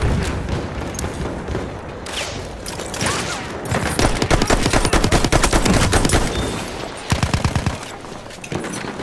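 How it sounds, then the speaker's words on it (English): Battlefield 1 multiplayer operations gunfire on a PS4 Pro: bursts of rapid machine gun fire rattle loud and close, with steady rat-a-tat runs among scattered shots and distant booms of battle. "I'm looking at a machine gun."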